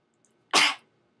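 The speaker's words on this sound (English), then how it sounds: "Sorry, I coughed." A single sharp cough bursts out close to the microphone and fades quickly, with near silence before and after.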